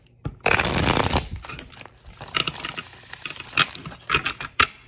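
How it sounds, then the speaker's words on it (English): A deck of tarot cards is riffle-shuffled up close: a loud burst of rapid flapping, followed by scattered lighter taps and slides of the cards being squared and handled. "Let's get a couple shuffles in."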